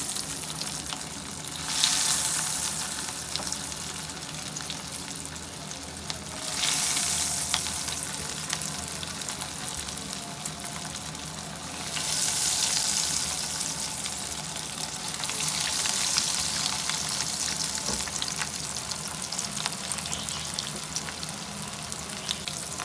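Homemade vegetable rolls deep-frying in hot oil, a loud, steady bubbling sizzle that swells in several broad surges, close up and uninterrupted, with no voices.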